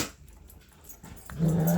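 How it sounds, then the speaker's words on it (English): Dogs growl low and whimper nearby, soft rumbling at first, then a louder sustained growl near the end, with no talking. "Those are my dogs."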